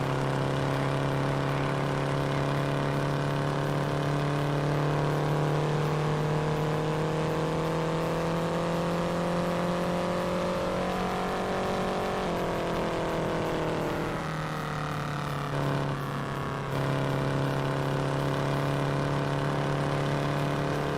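Race car engine on a warm-up lap in the Indianapolis 500 Evolution video game: a sustained, steady engine drone whose pitch rises slowly, dips midway, then holds level, with no talk.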